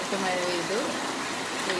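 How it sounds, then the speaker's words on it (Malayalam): Steady rain pours in Malappuram, a dense even hiss that fills the whole stretch while a voice talks over it. "ഇപ്പം മലപ്പുറത്ത് മഴ വന്നു."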